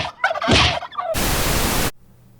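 A turkey gobble sound effect rattles out briefly and loudly, then cuts to a burst of harsh static before falling quiet.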